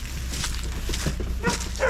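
Several dogs bark and yip outdoors on soft, muddy off-grid ground by a camper, a burst of overlapping close barks with whimpers and a louder cluster near the end, no clear speech.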